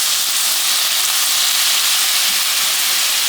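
Garlic, honey and soy sauce sizzle loudly and steadily in a hot pan as a bright continuous hiss and crackle, with no voice over it.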